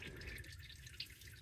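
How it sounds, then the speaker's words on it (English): Engine oil drips into a catch pan beneath a 2004 Honda Accord during an oil change, a faint, steady trickle with a few soft drops close by in a quiet space. "I like to let as much drain out with a controlled drip as I can"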